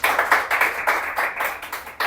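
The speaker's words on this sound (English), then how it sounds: "Yes, you can clap on that." Several people clap during a podcast opening, making a quick run of close, sharp hand claps at a brisk uneven rhythm with no speech over them.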